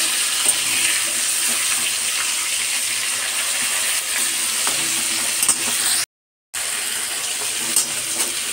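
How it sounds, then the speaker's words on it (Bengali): Fish frying in a pan for a thin spiced curry, sizzling steadily and close, with a dense hiss that continues unbroken apart from a brief silent gap near the end. "এখানে মাছ ভাজা অলরেডি হচ্ছে"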